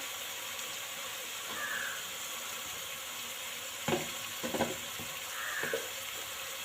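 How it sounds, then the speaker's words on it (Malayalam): Beef fries in a pan for a curry, with a soft continuous sizzle and hiss and a few clustered scraping stirs of a spoon near the middle, close and low in level. "ബീഫ് നന്നായി ചൂടായി വരുമ്പോൾ വരെ ഒന്ന് ഇളക്കി കൊടുക്കുക"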